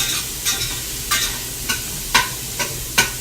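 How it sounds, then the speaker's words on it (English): Onions frying in olive oil while being stirred: a low bed of sizzle broken by repeated sharp scraping strokes of a utensil against the pan, roughly two per second and fairly close. "I'm adding a little more olive oil, then I will add some more pepper and some more salt. Onions now need to cook down"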